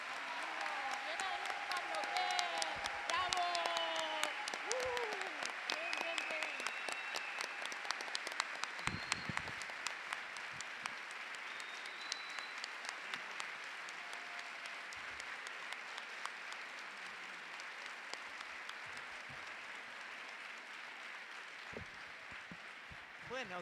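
Sustained audience applause at a Latin American social work conference in Tandil, after a speech. Dense clapping fills the hall evenly, with a voice briefly audible early on under the steady applause.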